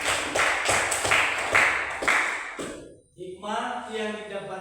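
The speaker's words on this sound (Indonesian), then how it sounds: "Tepuk tangan dulu buat Kristiani." A school class claps for a classmate named Kristiani, about five sharp bursts landing in a steady rhythm close by. The clapping stops abruptly, and a voice starts speaking after a short pause.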